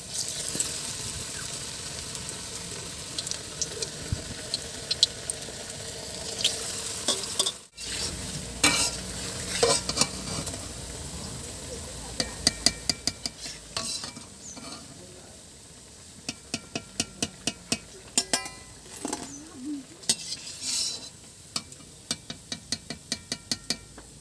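Raw papaya pakoras deep-frying in hot oil, a continuous sizzle and bubbling with occasional stirring clinks and scraping of a utensil against the pan, no talking.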